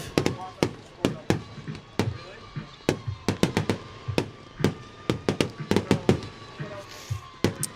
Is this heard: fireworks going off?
yes